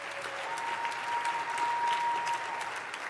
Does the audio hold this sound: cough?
no